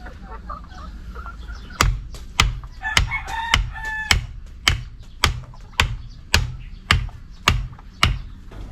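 Dekalb Brown hens cluck on a farm while a rooster crows briefly, and sharp regular taps or chops ring out about twice a second.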